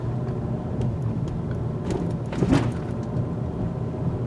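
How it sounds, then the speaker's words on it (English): A 2022 Honda Civic Hatchback rolls over a mild speed hump at 15 mph, giving one muffled thump and rattle midway through a steady low cabin road rumble. "take some mild speed humps at 15 miles per hour and see how the suspension performs an impact"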